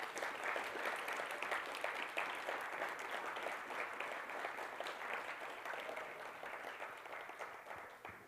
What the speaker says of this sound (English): Let's give our big applause to our performers again.